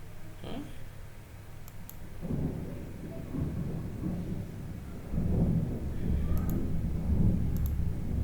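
Rain and low thunder rumble steadily from outside during a thunderstorm, heard faintly from indoors as a soft, continuous wash with occasional clicks.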